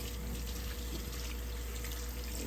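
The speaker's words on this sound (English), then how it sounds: "I'm about to rinse off the sea moss." Tap water running steadily into a sink while sea moss is rinsed under it, a constant close rushing hiss with no breaks.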